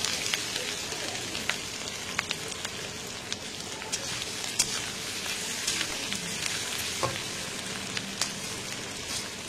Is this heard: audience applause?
no